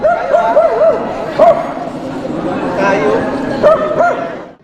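Several dogs yip and bark in short bursts amid a busy outdoor crowd at a running race with dogs, with people talking in the background throughout.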